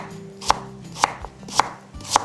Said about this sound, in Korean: 무 200g 한 토막 준비해 주시고요. 3등분으로 잘라서